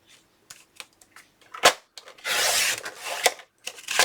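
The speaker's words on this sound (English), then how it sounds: "Take your second sheet of your 12 by 12, cut again at 9 1/4." A 12 by 12 sheet of patterned craft paper is trimmed on a paper cutter, with a few light clicks and taps followed by a longer, close rasping slice of the blade through the paper.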